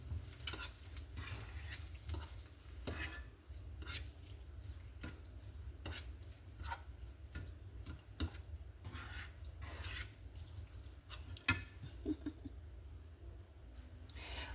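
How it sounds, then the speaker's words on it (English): Ground turkey simmering in sauce with red onions in a pan, a steady low bubbling and sizzling bed with scattered soft clicks and scrapes of stirring throughout, no voices. "I'm going to let this over here be simmering while I work on the rest of the dish."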